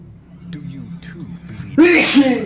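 A sharp sneeze from Snake in the stealth video game Metal Gear Solid Ground Zeroes bursts out near the end, loud and close, after a stretch of quiet talk.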